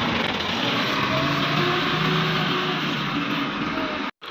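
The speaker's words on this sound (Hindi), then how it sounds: "ये गाड़ी आ गया था" A car arriving, its engine noise loud and close as a steady, broad roar that holds throughout before a brief dropout near the end.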